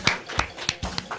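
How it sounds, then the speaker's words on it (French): A few slow, distinct hand claps at a live show, about five separate claps spaced roughly a third of a second apart, fairly quiet and close, with no crowd swell. "Je vous demande d'applaudir, s'il vous plaît."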